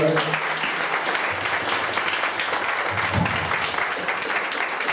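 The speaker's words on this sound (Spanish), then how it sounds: "Tiene un aplauso a Jesús" A church congregation bursts into sustained applause, dense and continuous clapping filling an indoor space for several seconds at full volume with a faint voice underneath.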